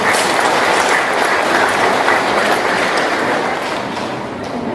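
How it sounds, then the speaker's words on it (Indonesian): Applause from a crowd at the inauguration of a Maitreya vihara in an Indonesian village, steady dense clapping throughout, loud and continuous, fading slightly at the end. "Tepuk tangan untuk Desa Sunde"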